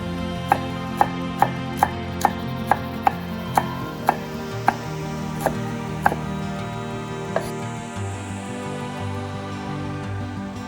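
Kitchen knife chopping green onions and garlic on a cutting board for a Korean yukgaejang soup: about a dozen crisp, steady taps early on that thin out and stop, close up and alone.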